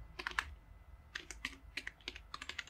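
Quick bursts of clicky keystrokes on a computer keyboard while writing a Fiverr gig description, close and quiet with short pauses between runs.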